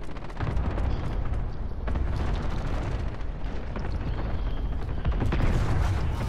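A video game grenade blast fills the mix with a loud, sustained roaring rumble and crackle, with several heavier booms swelling through it rather than a single short bang.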